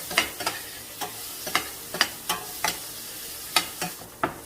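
Mushrooms frying in a pan make a low sizzle, broken by regular sharp scrapes and clicks of a utensil stirring them; quiet and close, without talk.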